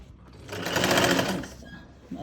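A sewing machine runs a brief burst of stitching on a salwar, its rapid needle chatter swelling and fading over about a second, close and alone.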